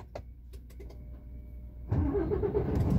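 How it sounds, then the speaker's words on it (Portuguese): A Mercedes truck engine at an Amazon loading dock turns over and settles into a close, loud, steady rumble after a couple of seconds of quiet clicks and idle hum. "Olha o ronco do motor da Mercedes."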